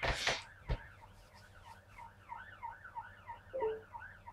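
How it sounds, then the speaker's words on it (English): A wailing siren rises and falls repeatedly at a distance, with a couple of sharp knocks and clatter nearby at the start. "it's a bloody ambulance again"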